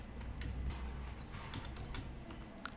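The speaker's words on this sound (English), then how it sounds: "Now type your password here." Keys tapped on a computer keyboard while a password is entered, a light run of uneven clicks, close by over a low steady hum.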